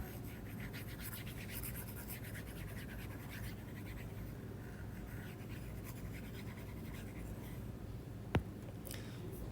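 Writing on a board being erased in a mechanics of materials class, with continuous soft scrubbing strokes over a constant room hum and one sharp click near the end.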